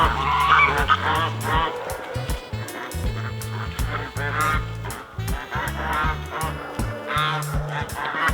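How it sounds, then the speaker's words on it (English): Several geese honk repeatedly and loudly up close on a homestead, in overlapping irregular bursts, with a dog-like bark mixed in. "Sometimes people have attacked geese."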